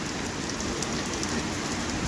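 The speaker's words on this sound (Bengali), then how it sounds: "এতক্ষণ আস্তে আস্তে জল হতেছিল, ইয়ার পরে রাগে রাগে জল হচ্ছে" Heavy rain pouring down steadily, a dense, even hiss of drops hitting surfaces without pause, loud and unbroken throughout.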